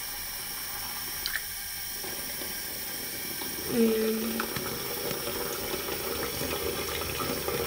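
Tap water runs steadily into a sink, a continuous close hiss under occasional speech and a brief clatter partway through.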